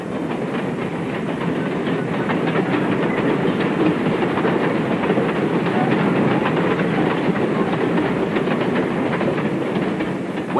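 A heritage steam train with a hand-fired coal firebox runs along a tourist line, filling the scene with a steady dense roar and rhythmic rail clatter that stays loud and continuous throughout.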